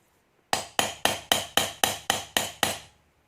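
Nine evenly spaced metallic taps strike the plug of an Abus lock, sharp ringing knocks close up in a steady rhythm, then silence.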